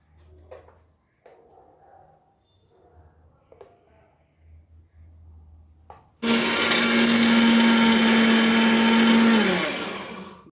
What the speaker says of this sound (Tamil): இந்த குழம்புக்கு தேவையான மசாலா நான் அரைச்சிட்டேன்